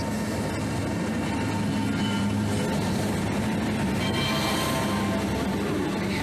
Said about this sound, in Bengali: ব্যান্ডেল চার নম্বর প্ল্যাটফর্মে ঢুকে গেছে ব্ল্যাক ডায়মন্ড এক্সপ্রেস